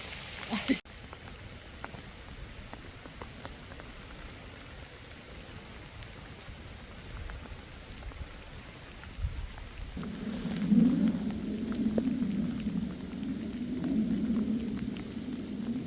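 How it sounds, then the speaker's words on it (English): Heavy rain drums steadily on a camp site near an Airstream travel trailer, a close, continuous patter that grows denser partway through, with a low hum joining underneath later on. "It's pretty hard raining right now."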